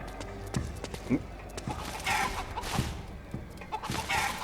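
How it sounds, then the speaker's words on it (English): Caged chicken clucking in Metal Gear Solid 4, short clucks and squawks scattered over a busy game soundscape with music and effects, mixed in with a voice talking. "Don't stab the caged chicken."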